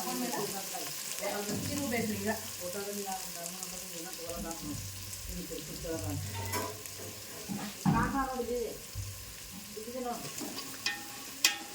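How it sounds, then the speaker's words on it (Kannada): Chopped raw onion and green chilli fry in hot oil for a mango churumuri dish, a continuous close sizzle with occasional stirring scrapes, while a person talks over it. "ನೋಡ್ರಿ ಎಣ್ಣೆಗ ಫ್ರೈ ಆಗ್ಬೇಕ್ರಿ ಉಳ್ಳಾಗಡ್ಡಿ ಮೆಣಸಿನ್ಕಾಯಿ ಎರಡು"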